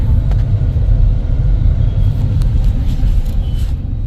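A car driving on a road in India, with a loud, steady low rumble of engine and road noise that holds unbroken throughout, and no talking.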